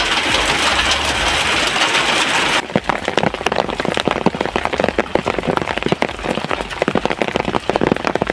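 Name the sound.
hailstorm, hail and rain falling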